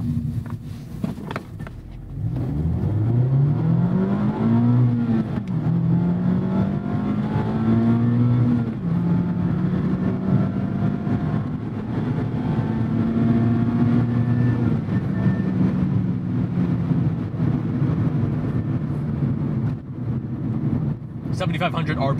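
A car engine revs steadily upward through the gears, loud and close, with pitch climbing and dropping at each shift.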